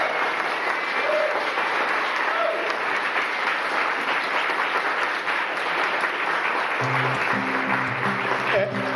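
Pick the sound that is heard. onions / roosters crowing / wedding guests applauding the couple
wedding guests applauding the couple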